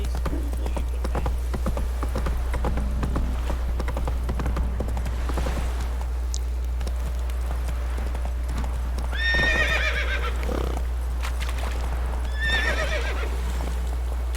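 Hooves of Roach, Geralt's horse in the video game Witcher 3, clop steadily in a gallop through light drizzle, joined by two short whinnies near the end over a constant low rumble.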